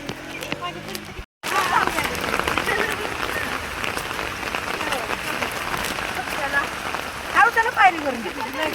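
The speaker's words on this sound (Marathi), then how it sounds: "खूप पाऊस खूप पाऊस पडतो" Heavy rain patters steadily on surfaces nearby, with a brief cut near the start, while people talk over the downpour.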